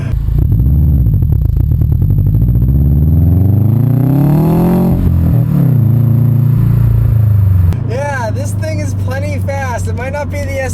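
A 2013 Subaru WRX with a 5-speed manual accelerates hard from inside the cabin, its engine note rising steadily in pitch through the gear, then a shift drops the revs and the climb starts again, loud and close throughout.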